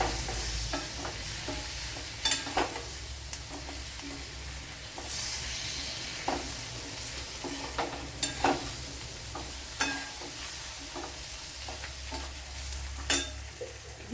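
Tomatoes frying in a pan for a squid (kanava) perattu, steady sizzle broken by repeated scraping stirs of a spatula, close and fairly quiet, with no talk.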